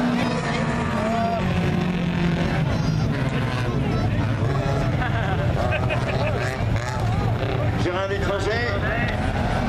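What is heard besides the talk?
race cars starting an autocross final, 2-litre class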